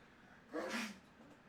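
One short, soft sneeze from a person at a tabletop roleplaying game session, heard faintly over low room noise.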